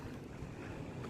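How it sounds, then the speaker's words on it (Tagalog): Big ocean waves surging under steady wind on the Samar coast after a storm, a continuous loud broadband roar with gusting noise and no talk. "Wala na rin masyadong hangin pero ang lalaki pa rin ng alon."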